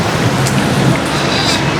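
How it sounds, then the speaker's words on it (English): Steady rain falling on a wet city street in Kuala Lumpur, a loud continuous hiss with faint traffic rumble beneath and no breaks. "It's still raining."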